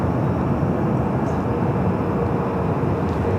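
An Alaska Horizon Embraer E175 airliner at Los Angeles airport gives off a loud, continuous jet rumble heavy in the low end, steady and close throughout.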